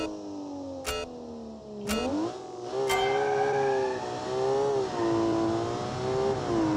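In BeamNG.Drive, a 394-horsepower 2.9-liter inline-six turbo car engine revs through rising and falling pitches as it climbs through gears. Sharp shifts punctuate the run, and it settles into a sustained, wavering drone.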